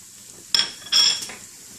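Two sharp metallic clanks of a utensil against a pan where onions and garlic are cooking, close and fairly loud, with a low frying hiss between them and no voices.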